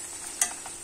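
Onions fry in a pan for a home-cooked meat pilaf, a soft steady sizzle with one brief stir-like scrape near the middle, close and fairly quiet.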